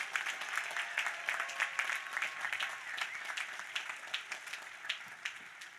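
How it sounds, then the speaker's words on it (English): A commencement crowd applauds graduating students, a sustained wash of many hands clapping at moderate distance, with faint cheers and tonal sounds under it. "How about another big round of applause for 20"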